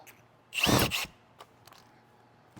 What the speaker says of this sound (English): We'll drill that, same as the last time.